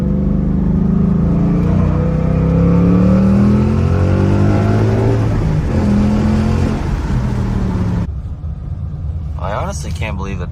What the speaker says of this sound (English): I love hitting that second gear really hard